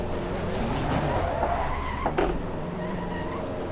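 A race car in the Assetto Corsa Competizione video game slides sideways at high speed, its engine droning steadily while tires squeal and scrub through the slide, close and continuous without talk.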